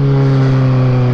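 A Kawasaki Z1000 motorcycle engine pulls hard in third gear, a loud, close, steady droning roar with strong low harmonics held for just over a second.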